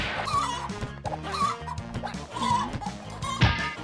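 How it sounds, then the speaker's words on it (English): Cartoonish chickens in the party video game Party Panic cluck in quick repeated bursts, loud and busy over game music and effects, without voices. "My chicken, she's stealing my chicken."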